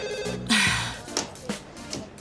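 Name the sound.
telephone ringing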